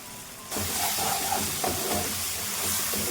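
Ginger garlic paste frying in a hot pan with oil gives a steady, close sizzling hiss that starts suddenly and stays even, with faint pops, and no talking.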